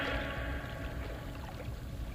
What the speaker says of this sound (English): Only that splashing water.